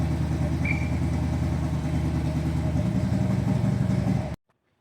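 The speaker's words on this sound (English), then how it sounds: "Almost sounds like it's running on 6 cylinders. I literally have the choke on it" The engine of an old, long-abandoned Chevrolet C10 step-side idles rough with the choke on, a close, loud, lumpy and uneven rumble that runs steadily before cutting off abruptly near the end.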